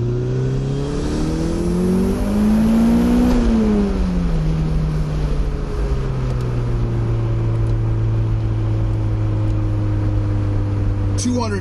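Turbocharged car accelerating hard at full boost in second gear, a loud, close engine note rising steadily in pitch, dipping briefly at a shift, then climbing again under a constant drone.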